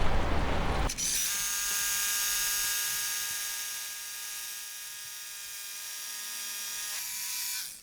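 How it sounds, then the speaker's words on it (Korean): A drill bores a 12 mm hole about 90 mm deep for a chemical anchor, a loud continuous high-pitched grinding whine that starts abruptly after a second, holds steady for about six seconds and then cuts off, up close with no speech. "12mm로 천공하고요. 천공 깊이는 90mm 정도 됩니다."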